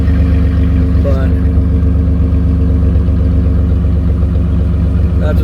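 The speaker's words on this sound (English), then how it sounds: "that's what the exhaust sounds like" A 2007 Dodge Ram 1500 with a 3.7-liter V6 and a newly replaced muffler idles nearby, its exhaust a steady, deep, even drone with no revving, and a voice is briefly heard over it.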